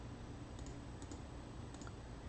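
Calculator keys are pressed in soft, quick clicks, faint and close, set against a constant low hiss, with no speech.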